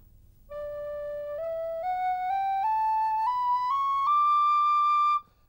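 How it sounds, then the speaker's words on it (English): An Irish tin whistle climbs a scale one note at a time, each pitch sliding smoothly into the next without tongued breaks, clear and solo against a quiet background. "I'll show you the difference between actually playing the notes normally and using your tongue."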